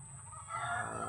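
Chickens clucking at a rural planting plot where many fowl roam, a steady close flock chatter of clucks that swells louder in the second half with no talking.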